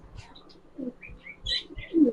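Giribaz pigeons coo softly and chirp close by in a short sequence of several calls.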